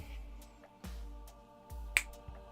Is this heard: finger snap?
yes